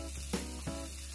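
Ginger, garlic and green chillies sizzle faintly in a frying pan, a soft continuous hiss broken by a few gentle stirring knocks.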